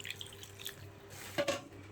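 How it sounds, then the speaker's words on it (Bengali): A small splash of hot water is poured into spicy duck bhuna in a cooking pot, heard as a short, faint liquid trickle and drip near the end of a quiet moment. "সামান্য কিছু গরম পানি দিয়ে দিচ্ছি"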